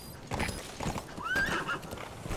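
A horse in the video game Metal Gear Solid V gives a loud, rising whinny over a quick clatter of hooves close by, with no talking.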